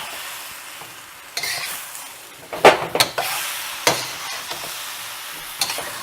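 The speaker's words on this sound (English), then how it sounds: "we're going to add the shrimp back in. Stir in as we go." Shrimp goes back into a hot vegetable stir fry in spicy brown sauce, with a continuous sizzle, sharp clanks and scrapes of a utensil stirring in the pan, loud and close, no talking.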